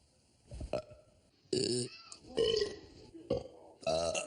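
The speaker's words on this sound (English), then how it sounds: "Burps are actually really gross sounding, aren't they?" Several loud, rumbling burps produced on demand by a person, four or five gross-sounding belches in quick succession with short pauses between, close to the listener.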